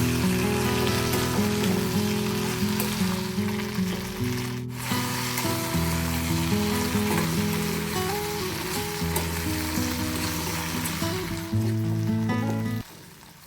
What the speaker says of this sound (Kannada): ಗ್ಯಾಸ್ ಲೋ ಟು ಮೀಡಿಯಂ ಫ್ಲೇಮ್ನಲ್ಲಿಟ್ಟು ಬೆಂಡೆಕಾಯಿನ ಚೆನ್ನಾಗಿ ಫ್ರೈ ಮಾಡ್ಕೋಬೇಕು.